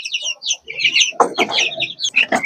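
Young chickens and chicks cluck and peep busily while pecking at a feeder, a lively overlapping flock of calls close by with no talk.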